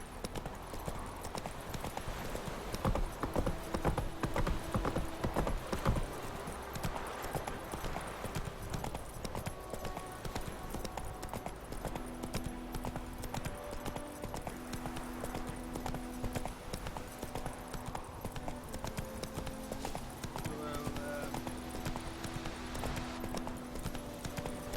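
Horse hooves clip-clopping steadily in the Witcher video game, a continuous fast rhythmic beat under a dense game soundscape, moderately faint throughout.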